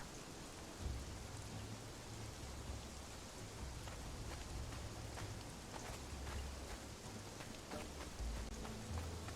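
Steady rain falling in the jungle in the video game Conan Exiles, a dense, even patter with low rumbles underneath, heard alone without speech.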